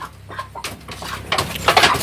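Chickens cluck in short, irregular bursts at close range outdoors, a few clucks rising in loudness toward the end, with no talking over them.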